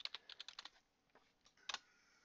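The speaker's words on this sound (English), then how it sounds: "Type it in as imprint there." Quick bursts of keystrokes on a computer keyboard, a flurry of clicks followed by a pause and a few more taps, close and quiet.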